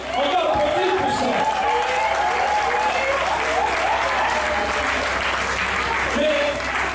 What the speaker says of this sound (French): On va applaudir pour ça.